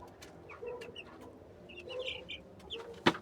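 Clucking from a rooster and hens on a rooftop comes in scattered faint bursts over quiet background, ending with one louder sharp squawk near the end; no talking.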